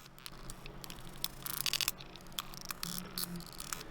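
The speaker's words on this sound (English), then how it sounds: "I just stitched everything together to come up with like a glitch sound" A processed glitch effect built from crinkled Monster energy can and bottle-cap sounds plays as quiet, stuttering bursts of crackly static and clicks over a low hum, irregular and choppy throughout.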